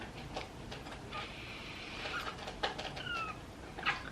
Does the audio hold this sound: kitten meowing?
yes